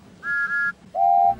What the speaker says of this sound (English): Gordon has Duck's whistle sound.